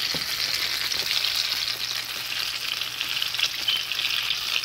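Snapper fish frying in hot oil gives a loud, steady, close sizzle with a constant bright crackling hiss throughout, and no voices are heard.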